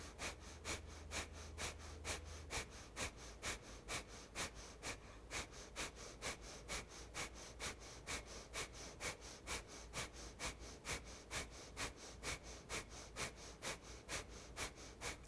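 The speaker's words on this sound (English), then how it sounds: "Either slow, deep breathing or mini round breath of fire." Rapid rhythmic yoga breath-of-fire exhalations repeat in an even, fast pulse of short forceful puffs, about two per second, faint and steady throughout with no talking.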